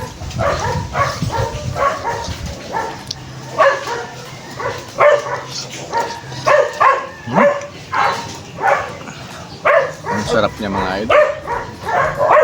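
Dogs bark and yip in quick repeated bursts close by, with people talking and chewing noises mixed in throughout.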